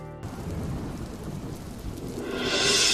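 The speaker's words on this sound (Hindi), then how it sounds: "बाहर कितनी सुंदर बारिश हो रही है।" Steady rain falls throughout in a cartoon scene, with a low thunder rumble building toward the end as the hiss of rain grows louder; no one speaks.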